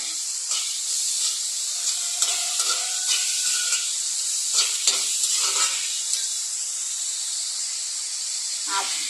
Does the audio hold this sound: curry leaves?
yes